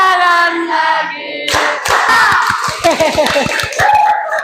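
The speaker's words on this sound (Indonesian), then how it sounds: "Tepuk tangan lagi" A group clapping hands together in a classroom activity, a quick run of sharp, roughly rhythmic claps following sung or chanted voices, with talk and children's voices mixed through.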